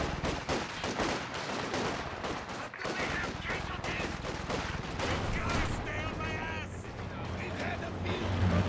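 Dense, continuous machine gun and rifle fire with explosions from a Company of Heroes 2 battle, loud and relentless throughout, with a commentator talking over the gunfire.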